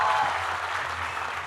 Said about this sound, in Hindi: जोरदार तालियां, क्या बात है